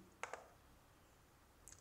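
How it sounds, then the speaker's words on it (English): Two quick computer mouse clicks close together, faint and dry in a quiet room, followed by a small tick near the end. "Clicking save,"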